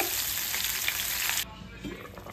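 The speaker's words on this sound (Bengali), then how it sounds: "এদিকে মুড়ো ভাজা হচ্ছে, মুড়ি ঘন্ট" A fish head fries in a pan of oil for Bengali muri ghonto, making a loud, dense, steady sizzle that suddenly drops to a quieter simmering crackle partway through. No one speaks.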